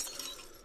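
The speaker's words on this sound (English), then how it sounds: "glass sound effect" A glass sound effect from an RPG Maker horror game: a brief, bright clink with a glassy shimmer, heard alone and fairly quiet.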